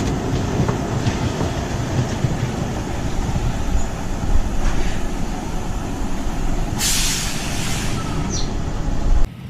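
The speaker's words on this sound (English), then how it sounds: "we just had a chance to do Skyliner, that wooden roller coaster back there" Skyliner, an old wooden roller coaster at Lakemont Park, rumbling steadily along its track with a clattering, rattling roar, then a sharp hiss near the end as it hits the brakes.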